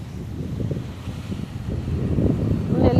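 Wind gusts outdoors rumble across the microphone, strengthening toward the end, with faint talking beneath the buffeting noise.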